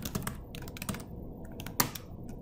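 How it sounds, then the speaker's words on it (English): Keys clatter on a computer keyboard in quick irregular bursts with short pauses, close and moderately loud, with one sharper keystroke near the end; no speech. "I started typing"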